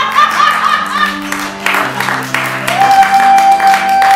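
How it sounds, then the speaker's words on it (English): An audience at a Renaissance faire show claps and cheers over loud sustained music with held tones, the applause rising in bursts and staying mixed under the music. "that was a time you could applaud if you decided to."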